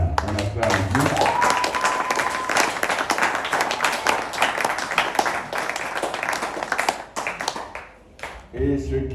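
A church congregation claps and cheers in praise of God, steady loud applause with voices and a sustained sung or shouted note rising over it, continuing for several seconds before tapering off as talk resumes.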